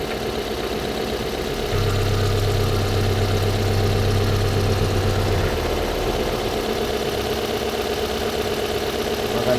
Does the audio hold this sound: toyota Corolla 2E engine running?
yes